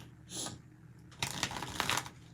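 Soft riffling and flicking of tarot cards being shuffled in a lap close by, a brief burst followed by a longer run of papery slaps.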